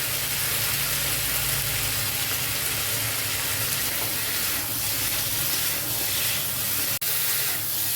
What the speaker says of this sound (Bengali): কচুগুলো 2 মিনিট একটু ভালো করে ভেজে নেব